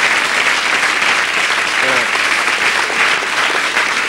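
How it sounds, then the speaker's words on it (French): Steady, dense applause from a large television studio audience, continuous and loud throughout. "Pascal Pitch, que vous applaudissez"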